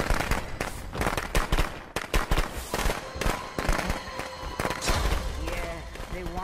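Rapid crackling firecracker bangs in the video game Friday the 13th: The Game burst in dense, irregular volleys, loud and close, mixed with game sound effects and a voice talking over them.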